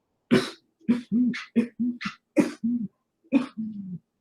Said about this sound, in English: Can you try and do a deep breath and cough it up